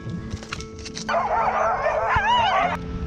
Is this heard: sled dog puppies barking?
yes